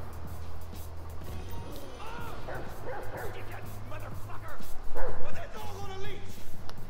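Chop the dog barking and yipping in GTA 5, a series of sharp barks and whimpers that build louder toward the end, mixed with game noise and someone talking over it.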